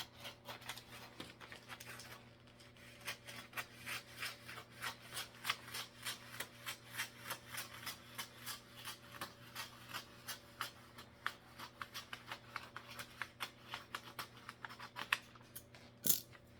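Scissors slide through Christmas wrapping paper while a present is being wrapped, making a steady run of quick, crisp snipping and rustling strokes at close range for most of the stretch.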